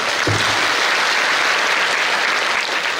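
Village audience at a kirtan festival clapping steadily, a dense continuous burst of applause filling the whole stretch at close range with no voices over it.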